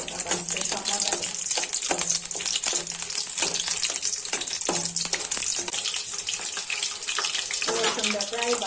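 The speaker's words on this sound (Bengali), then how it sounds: "রসুনটা প্রায় বাজা হয়ে যাচ্ছে।" Garlic frying in a pan: continuous loud sizzling and crackling with soft scraping stirs, steady throughout, with a voice speaking briefly over it.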